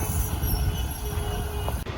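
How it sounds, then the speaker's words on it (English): A train passes on tracks below the listener, a steady, loud low rumble with a faint thin wheel squeal running through it and no talking. "look at the train down there"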